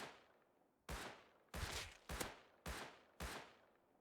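Five loud, sharp gunshots ring out from a rifle in the survival game Rust, fired one at a time at an uneven pace at an offshore oil rig, each crack ending in a short decaying tail.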